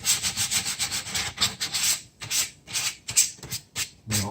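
Repeated rubbing strokes of sandpaper stripping sanding sealer from a wooden bass guitar body during a kit build, a steady back-and-forth scratchy rhythm, close and moderately loud with short pauses between passes.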